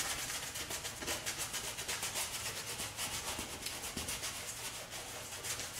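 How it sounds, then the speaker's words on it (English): A brush scrubs dry acrylic paint into a canvas in quick, rhythmic back-and-forth strokes. The rasping swish is steady and fairly quiet, heard up close without any talk. "I'm just going to randomly grab some colors and just start scrubbing it in."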